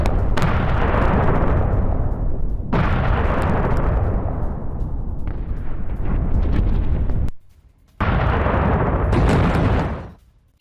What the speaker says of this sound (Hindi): इजराइल के एयर स्ट्राइक के बाद जोरदार धमाका